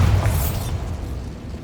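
Bombarda spell explosion in Hogwarts Legacy: a single loud, deep boom with a short burst at the start, then a rumbling decay with no voice over it.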